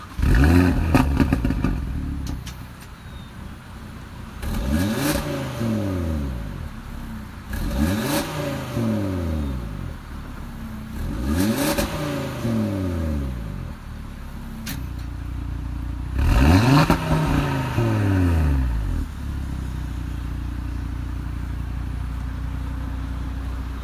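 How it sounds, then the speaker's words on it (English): A 2017 Audi RS 3 starts up and drives off, its engine revving hard through four distinct rising pulls separated by shifts and lifts, loud and close, with clattering between pulls and no voices. "let's fire it up and go for a ride"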